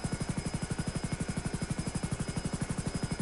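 An expensive non-weaponized helicopter in GTA 5 makes a steady rotor chop, a fast even beat of thumping pulses with a faint high whine above it, at moderate level and with no voices.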